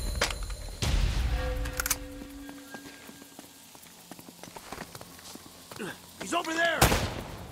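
Enemy gunfire in an Uncharted firefight, with sharp shots and short bursts cracking at irregular moments under speech, plus scattered impacts and a heavy burst near the end.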